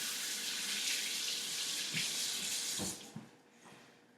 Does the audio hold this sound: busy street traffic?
no